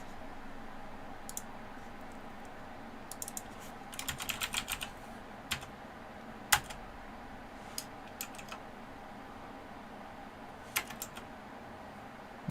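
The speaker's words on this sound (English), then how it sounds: "Now we're gonna type schema" Keystrokes on a computer keyboard, scattered and irregular, with a short burst of quick taps near the middle. They are faint and close against a steady low hum.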